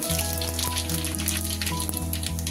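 Panch phoron spices sizzle in hot mustard oil, a steady crackling fry with a continuous low hum from the stove or kitchen background, no talking.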